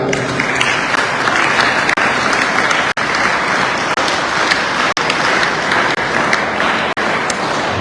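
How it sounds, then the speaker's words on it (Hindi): Loud, dense applause from a large audience at a National Sports Day ceremony in a university hall, sustained and steady throughout with no pauses. "जोरदार तालियां।"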